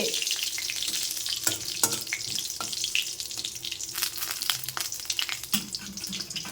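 Whole cumin and dried chilli sizzling in hot oil to temper dal, a close, steady crackling fry with scattered sharp pops and stirring clatter.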